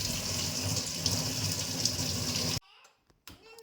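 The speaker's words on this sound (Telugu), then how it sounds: "ఉడికించిన పాస్తాలో కొద్దిగా వాటర్ వేసుకుని క్లీన్ చేసుకుని పక్కన పెట్టుకోవాలి" Water runs steadily from a tap close by over boiled pasta for about two and a half seconds, then cuts off abruptly, leaving near silence.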